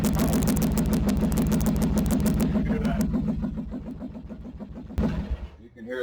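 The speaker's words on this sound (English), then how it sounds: "You can hear that starter almost kicking out right at the last of it" A Yamaha Virago XV750 motorcycle starter cranks the hot engine in a fast rhythmic churn that slows and weakens, then cuts out, followed by a brief sharp burst near the end, close and loud.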